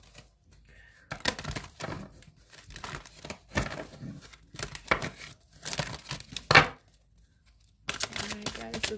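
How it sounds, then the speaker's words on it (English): Tarot cards shuffled in bursts of crisp riffling and crinkly snapping, several separate rounds with short pauses between, close and moderately loud, one sharp louder flurry near the end. "and we're going to go keep shuffling."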